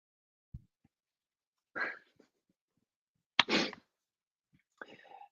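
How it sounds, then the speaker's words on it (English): A person sneezes twice in a quiet room, the second sneeze sharper and louder. Each comes with a brief preceding breath, and a short voiced sound follows at the end. "Hold on, I'm going to sneeze."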